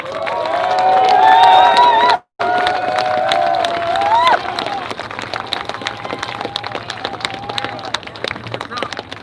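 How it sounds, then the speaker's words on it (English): Crowd at a Proud Boys patriot rally in Portland, Oregon, shouting and cheering loudly, with scattered clapping and voices talking through the noise, the cheering fading somewhat after a brief cut. "Clap your hands."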